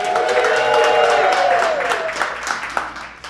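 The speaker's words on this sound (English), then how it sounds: "If I had an applause sign, I'd say applause." Studio audience at a live taping applauds and cheers, clapping and a few shouts strongest at first, then tapering off into scattered claps with a voice still ringing over the start.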